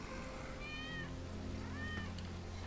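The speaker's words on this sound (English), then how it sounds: "That's Wedge's cat." A cat in the Final Fantasy VII Remake video game gives two clear, drawn-out meows about a second apart, moderately loud over a steady ambient game background.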